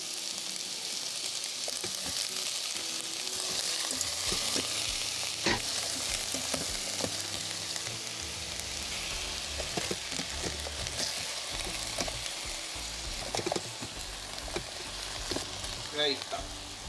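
Chicken pieces added to a hot rice cooker pot for a keto chicken and bacon soup, sizzling steadily throughout with occasional stirring clatter and scrapes.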